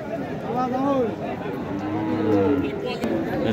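Several Holstein Friesian cattle mooing close by at a cattle market, long low calls overlapping, over a busy background of crowd chatter.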